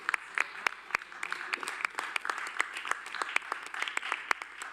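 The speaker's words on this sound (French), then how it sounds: "vous pouvez les applaudir." An audience applauds at a moderate distance, a steady patter of many hands clapping with a few sharper claps standing out.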